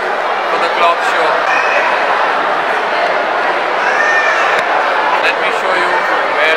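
Crowd of people milling in the clock room of a museum in Hyderabad, a dense steady murmur of many voices filling the space, with a person talking close by over it.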